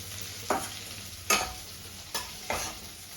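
A pan of onions frying with bay leaf and dried chilli crackles quietly while a spatula scrapes through them four times at uneven intervals, each stroke a crisp rasp over the low sizzle.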